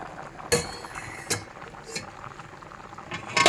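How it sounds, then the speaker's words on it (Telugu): Dal lentils with leafy greens bubbling in a pot, a low simmering hiss broken by several sharp clinks of a utensil against the vessel, close and fairly loud. "పప్పు ఎలా ఉడుకుందో చూపిస్తాను."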